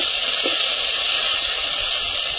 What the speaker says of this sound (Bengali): বাটা মশলার গন্ধটা চলে যাওয়া পর্যন্ত তেলে ভেজে নেব